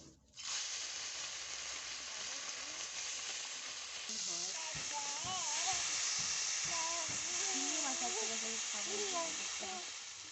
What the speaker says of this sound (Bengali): আমার তেলটা গরম হয়ে গেছে তাহলে আমি তেলে ছেড়ে দিচ্ছি মাছগুলোকে